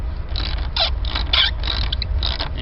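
A socket wrench turns a bolt and nut on a wooden swing set during assembly, giving a steady run of close mechanical ratcheting clicks and scraping for a couple of seconds with no talk.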